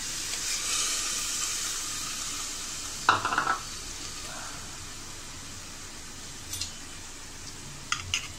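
Tomato juice hits onions frying in a pan, giving a steady soft sizzle with a brief louder splash of liquid, then a few scattered clinks and stirring scrapes, all close and without talk.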